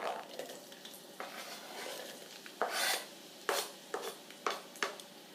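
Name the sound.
onions dropped into hot oil in a pan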